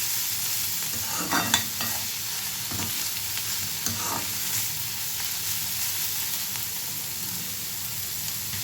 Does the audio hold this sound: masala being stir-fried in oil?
yes